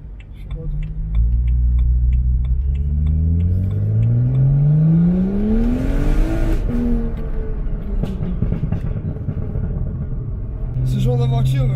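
A BMW 135i with a Stage 2 N55 engine and full decat exhaust revs up through rising gears with a rumbling exhaust, then crackles and pops as it lifts off, close and loud.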